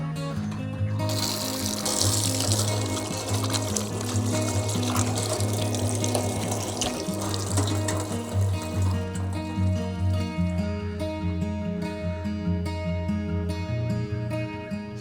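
Water runs from an outdoor tap at a picnic area in a large Buddhist park in Thailand, a constant splashing gush that starts up within the first second and continues steadily at close range.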